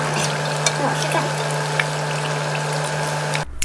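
Taro and red bean pies deep frying in oil in a flat pan give a steady, even sizzling hiss with a low constant hum beneath, ending abruptly.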